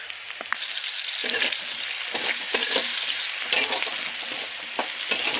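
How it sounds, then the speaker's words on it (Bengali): Onions with salt fry in a pan, a close, steady sizzle broken by soft stirring knocks, with no talking over it. "পেঁয়াজটা লাল করে ভেজে নেব।"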